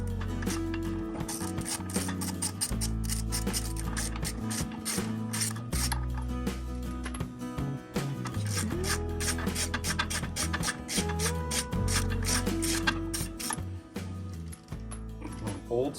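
Hand tools, not an impact wrench, loosening wheels on a raised car in a shop: repeated ratcheting clicks and metallic scraping, close by, with someone talking over much of it.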